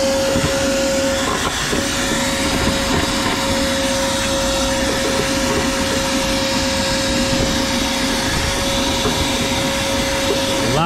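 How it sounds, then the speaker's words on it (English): Shop vacuum running steadily on a commercial air conditioner, pulling dirt from the condenser coil; a loud, continuous motor whine with a steady tone, close and uninterrupted throughout. "we're gonna start with the vacuum"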